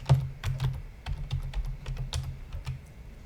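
Steady typing on a computer keyboard, with irregular clicks of keys pressed one after another at close range over a low background hum.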